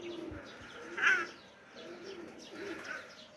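Old-breed white whiskered pigeons coo softly nearby, a few low rolling calls rising and fading over a quiet background.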